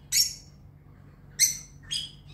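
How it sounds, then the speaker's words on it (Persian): Three bright, high bird calls from a bird film played for a pet, each a short chirping phrase separated by pauses, clear and moderately loud over a faint low hum, without talk. "فیلم پرندگان رو براش میذارم میاد نگاه میکنه"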